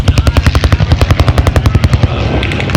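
A replica Aichi Val dive bomber dives during a Pearl Harbor reenactment at the Wings Over Dallas 2016 airshow in Texas. Its loud, throbbing propeller engine pulses rapidly and steadily before blending into a smoother roar.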